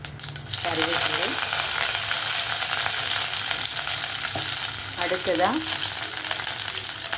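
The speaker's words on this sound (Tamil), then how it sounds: "ஆயில் ஹீட் ஆனதும் கடுகு, உளுந்தம் பருப்பு போடணும்" Mustard seeds and urad dal crackle and sizzle in hot oil for a sambar tempering, a steady close frying hiss that runs throughout while someone talks briefly over it.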